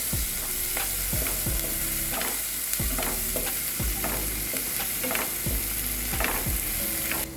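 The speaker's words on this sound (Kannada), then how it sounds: "ಹಾಕೊಂಡು ಚೆನ್ನಾಗಿ ಫ್ರೈ ಮಾಡಾತೀನಿ ರೀ." Masala fries and sizzles in a pan for hesar kal curry, with a steady hiss and regular scraping stirs of a spoon, close up and continuous.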